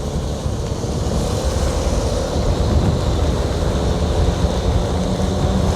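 Typhoon Uwan lashes a bus terminal in Calamba, Laguna with a loud, steady roar of wind and storm noise that buffets the microphone without letup.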